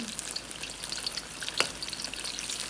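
Cauliflower pakoras, gobi fritters, bubble and fry in hot oil, a soft steady crackle with light spitting pops, heard close but faint, no speech.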